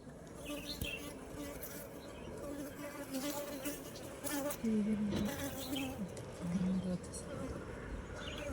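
Bees buzz around a wild hive, a droning hum with individual insects swelling louder as they pass close, over a busy background.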